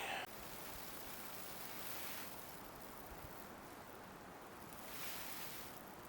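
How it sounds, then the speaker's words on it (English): Steady broadband wind noise rushing past at a winter campsite, swelling and easing in gusts, with no voices. "It's getting kind of windy"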